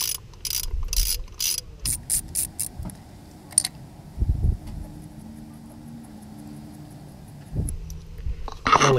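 A ratchet wrench removes the bolts on a 4M40 diesel engine's boost compensator. Rapid bursts of close ratcheting clicks come first, then scattered quieter clicks and metallic clunks.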